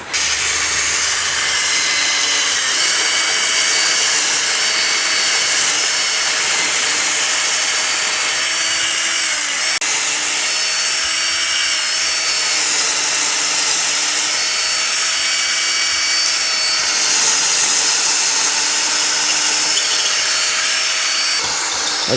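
Power drill boring holes for new bench feet in a workshop, a continuous close, loud whirring hiss that runs the whole time with slight pitch shifts and no talking.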